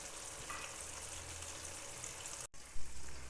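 Fish frying in oil over medium heat, a steady close sizzle with a brief break near the end before the crackle returns louder.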